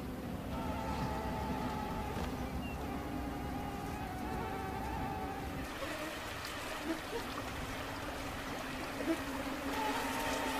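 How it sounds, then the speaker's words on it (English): Mosquitoes swarming over Arctic tundra in summer, a steady close insect whine running continuously throughout with a faint background wash and no talking. "Mosquitoes."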